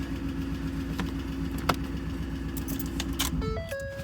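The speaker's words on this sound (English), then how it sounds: "let me go ahead and shut the truck off" Keys jangle at the ignition as a 2010 Ford F150 pickup is shut off, with a steady idle rumbling underneath, a metallic clink midway, then the engine dying and chime tones sounding near the end.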